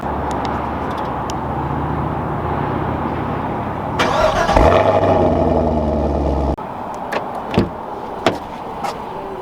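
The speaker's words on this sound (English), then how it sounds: "let's roll a quick exhaust clip before we get the full-blown exhaust clip later in the video" A 2021 Chevy Camaro SS convertible starting up with a sharp burst from its exhaust, then settling into a rumbling idle with a few light clicks and knocks nearby.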